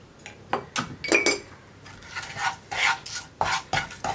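Salt and spice powders stirred in a hot pan for a mango and yogurt curry, a spoon scraping and clinking against the metal in repeated short strokes, close and fairly quiet, with no talk.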